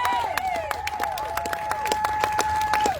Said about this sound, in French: Mais acclamons pour Jésus